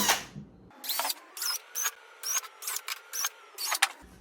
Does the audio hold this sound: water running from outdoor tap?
no